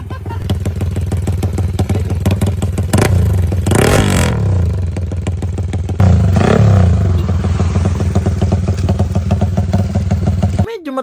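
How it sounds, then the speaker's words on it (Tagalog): Drag bike motorcycle engine revving loud and close, with repeated throttle blips and rising roars over a rough, rattling idle, with some clatter. "Ayan nga pala nakikita yung drag bike."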